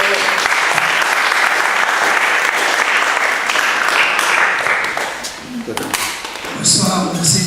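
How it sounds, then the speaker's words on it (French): Loud, dense applause from a large audience at a Torah lecture evening, filling the whole stretch, with a voice briefly cutting in near the end as the clapping thins. "On l'applaudit très fort."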